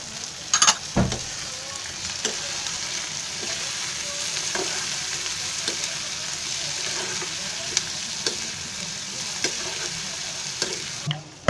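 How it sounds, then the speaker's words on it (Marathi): Onions and tomatoes fry in a pan for a dry prawn curry, a constant soft sizzle broken by a series of scraping, clicking strokes as the mixture is stirred, close and alone. "कांदा चांगला तळला आहे, आता मी त्याच्यात टोमॅटो टाकते."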